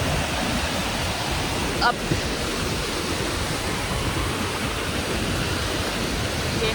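Rushing white water at the Upper Duden waterfall, a loud, continuous roar of broadband noise close by, with a brief voice heard over it.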